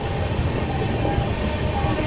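The SMVT Bengaluru to Danapur express rolls out of Piperiya station with a steady, loud rumble and dense rattling from inside the moving coach, heard continuously without pauses.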